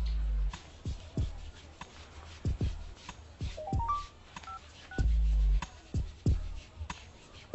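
A telephone number is dialed to call a friend: a quick run of short touch-tone beeps stepping up in pitch, mixed with soft button clicks and handling noise, close and fairly quiet.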